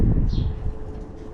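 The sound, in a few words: wind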